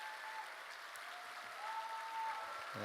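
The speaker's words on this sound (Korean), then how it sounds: "우리 큰 박수로 환영하겠습니다." A church youth congregation gives a welcoming round of applause, a soft, even patter of many hands heard from a distance, with faint voices and a brief tone near the end.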